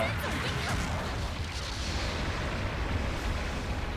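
Gunfire and booming blasts in the mecha battle game Gundam: Battle Operation form a dense, continuous barrage of rumbling shots and explosions, with a player's voice faintly under the action.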